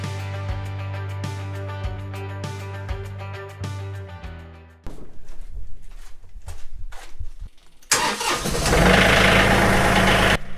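A tractor engine cranks with repeated rhythmic chugs, then catches and settles into a loud, steady rumbling idle close by.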